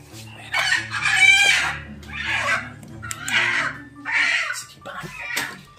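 A chicken clucks and calls in several loud, drawn-out bursts close by, with a low steady hum underneath.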